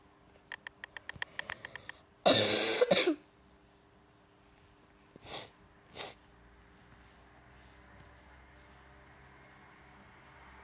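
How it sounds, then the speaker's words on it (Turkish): One harsh, loud cough is followed a few seconds later by two shorter coughs, set against a quiet room. "video içinde öksürüyorum kusura bakmayın"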